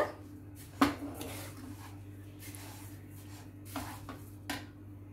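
A spoon scrapes and knocks against a pan while sugar, gram flour and grated coconut are stirred together for burfi, giving a few soft clinks and rubs over a quiet background hum.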